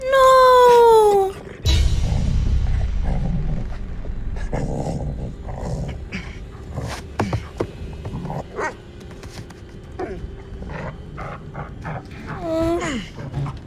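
A dog growls, whimpers and barks in the horror video game The Devil in Me, a loud, close, rough rumble broken by short yelps, with a brief high mechanical whine at the start and end.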